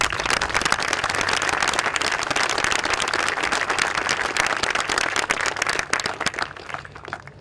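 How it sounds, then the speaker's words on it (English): Dense audience applause at a South Terminal groundbreaking ceremony, steady and fairly loud throughout, thinning slightly near the end. "And so they deserve our applause."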